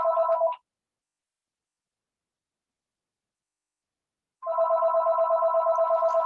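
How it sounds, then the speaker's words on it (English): A telephone rings with a steady electronic trill, one short burst, a few seconds of silence, then a longer ring, fairly loud and close. "Apologies for the ringing in the background of the telephone."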